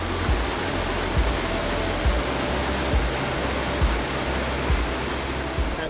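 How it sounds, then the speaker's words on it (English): Roaring River Falls in Kings Canyon National Park, a 40-foot waterfall pouring through a narrow chute into a pool, gives a loud, steady broadband roar of crashing water with faint periodic low thumps and no voices. "a narrow chute forms and the Roaring River crashes down into a pool"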